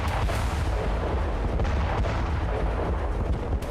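Tank fire from IDF ground forces assaulting Hamas positions in Khan Younis, Gaza: a dense, continuous roar of heavy booming blasts and rumble with repeated sharp reports, loud and sustained, no voices.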